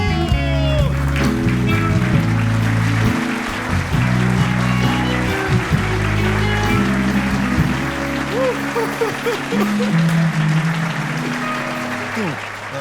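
Crowd applause rings out in a handball-club setting, loud and sustained with many overlapping claps, while music and a voice carry on underneath.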